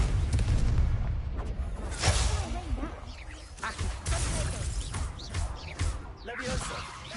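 Confringo blasting-curse explosions in Hogwarts Legacy, heavy booming bursts over a constant low rumble, with shouted spell voices in between.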